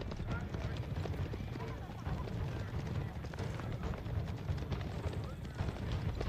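Many horses galloping in Age of Empires 4, a dense, continuous rumble of hooves with clip-clop texture and occasional neighs, loud and filling the whole stretch alongside battle noise, with someone talking over it.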